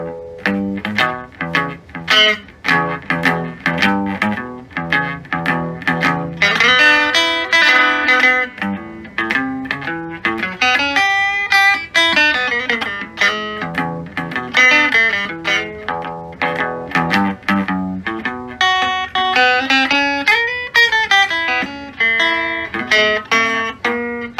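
A 1968 Gibson Hawk electric guitar on its neck pickup plays through an amplifier, picking notes and chords with a warm, slightly overdriven tone, reverb and tremolo off.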